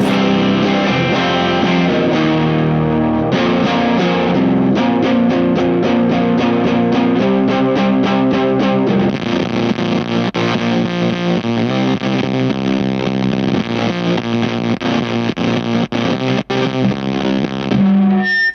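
Thick, heavily distorted electric guitar through a Dazatronyx FFS silicon fuzz pedal into a slightly driven amp, playing chords and riffs continuously, loud and saturated with fuzz, no talking.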